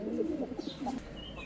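Rampuri pigeons coo softly nearby, a few low, rounded murmuring calls in a short, quiet burst.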